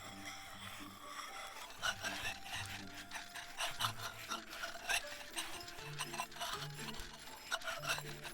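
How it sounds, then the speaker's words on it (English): Steady rasping rub of an ink stick being ground against an inkstone in the game Love and Deepspace, repeating strokes with a soft scraping rhythm under faint background music. "You're grinding ink, not sharpening a knife."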